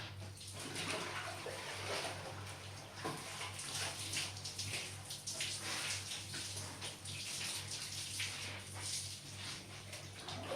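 Continuous splashing and sloshing of water with a steady background hum, like clothes being scrubbed and swished by hand in a basin.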